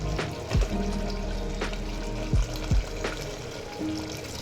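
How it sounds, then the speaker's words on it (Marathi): Hot water poured into a pot of chicken, a steady liquid splash with a few sharp clinks and knocks of metal nearby. "आता आहे ना मी याच्यात थोडं टाकतो गरम पाणी"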